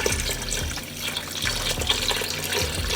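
Water and beef broth for Cambodian pho pour steadily into a pot, a continuous splashing gush close by with no voices.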